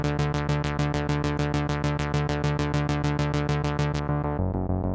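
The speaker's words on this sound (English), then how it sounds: "So it's going to add a little bit of a clicky kind of modulation effect" A synthwave bass patch with a clicky filter envelope repeats in a fast, steady run of short plucked notes, each opening with a bright click over a sustained rich low tone, loud and alone before the pulses stop and the tone fades.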